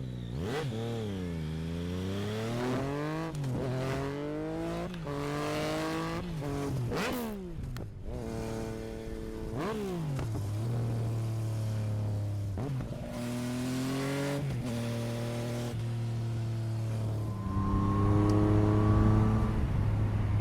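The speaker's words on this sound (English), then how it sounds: "there is a Akrapovic from the Racing Line. The sound is just beautiful." Yamaha XSR 900 cafe racer with an Akrapovic Racing Line exhaust revving repeatedly, each throttle blip climbing and falling, close and loud, ending in a sustained higher idle with no talk.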